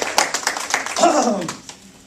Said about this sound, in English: Go ahead and you can applaud for James.